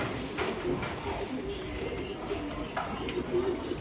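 A Kasni Kalanka pigeon coos in repeated soft calls over steady background noise, nearby and moderately loud, with faint talk underneath.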